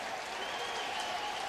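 Cardinals fans at a Minnesota at St. Louis baseball game applaud Molina, a steady wash of clapping and crowd noise that holds level throughout.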